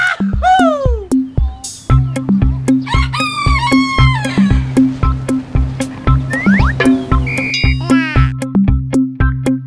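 Chickens in a Thai farm pen, with a rooster crowing repeatedly over steady clucking and other fowl calls. A regular low rhythmic thumping runs through the whole stretch beneath the birds.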